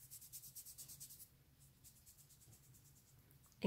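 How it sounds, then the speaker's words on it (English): Palm rubbed back and forth across very dry skin, making faint, close papery scraping strokes in a quick steady rhythm that fade to softer, sparser rubs. "Here it's like I'm going across paper. It's easy to do and it's very loud because my skin's so dry."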